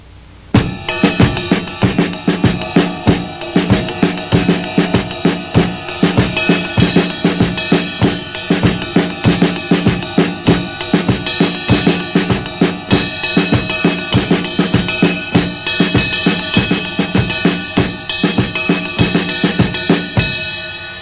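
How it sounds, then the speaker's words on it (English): A drum kit grooves steadily: right hand on a cymbal, left hand on the snare, four beats on the bass drum and hi-hat, a dense, continuous pattern of close, loud hits with ringing cymbal wash throughout. "apply it between right hand on my cymbal and left hand on snare,"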